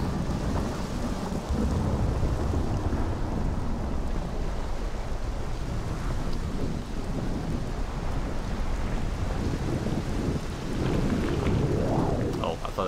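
Steady heavy rain pours from a rain cloud in Morrowind while rumbling thunder rolls underneath, a dense continuous wash with deeper swells near the start and end.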